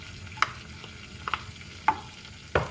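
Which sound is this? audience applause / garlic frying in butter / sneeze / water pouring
garlic frying in butter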